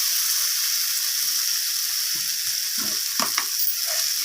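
Potatoes, peas and coriander leaves are stirred and sautéed in a pan: a soft steady sizzle with a few brief scraping knocks of a spoon near the end, close and fairly quiet.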